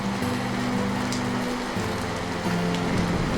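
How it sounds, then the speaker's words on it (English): Rain falls steadily in the Lake District, a dense close hiss of drops on surfaces, with a low droning hum running underneath. "So much for the height of summer, it's raining."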